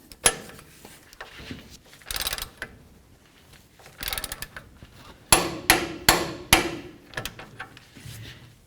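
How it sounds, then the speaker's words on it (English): Mechanic's hand tools clanking and ratcheting on the front lower ball joint nut of a 2007-or-later Toyota Tundra, a series of sharp metallic hits and clicks in irregular bursts, close and fairly loud with quiet gaps between. "Let's torque this ball joint nut to 123 foot-pounds."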